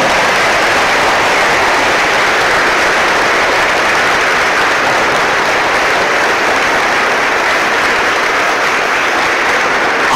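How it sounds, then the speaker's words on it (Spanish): A church congregation claps steadily and loudly for about ten seconds, a dense sustained wash of applause with no talking. "Un aplauso para ella."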